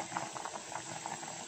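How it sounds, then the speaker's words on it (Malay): Quiet bubbling of water at a rolling boil in a pot with corn cooking in it, soft irregular pops and gurgles, close and steady. "mari kita tengok ini jagung sedang mendidih ini air"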